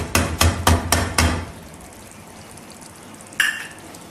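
Biryani masala spices with tamarind and dried red chillies pounded by hand, five sharp, evenly spaced knocks close up, then a quiet pause and one lighter clatter near the end.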